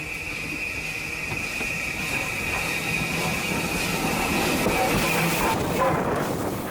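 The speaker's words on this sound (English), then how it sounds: "It's nice to finally see these lovely southern coaches being hauled by a locomotive" Adams O2 steam locomotive Calbourne hauls Southern coaches along a heritage line, giving a steady rolling rumble of wheels on rail with a faint squeal and rhythmic clatter throughout and no speech.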